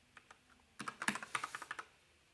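Code is typed on a computer keyboard: a few scattered keystrokes, then a quick burst of about a dozen close, crisp clicks before trailing off into quiet.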